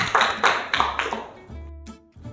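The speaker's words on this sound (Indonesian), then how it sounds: "Tepuk tangan untuk kita semua." A classroom of schoolchildren claps briefly, a few loose, uneven bursts of hand claps separated by gaps, fading quickly into near quiet.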